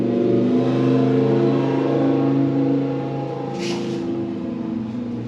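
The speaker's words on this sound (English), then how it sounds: "That was a Lamborghini" A Lamborghini sports car revs as it passes outside an apartment complex, a loud sustained engine drone that holds, then eases slightly as it moves away.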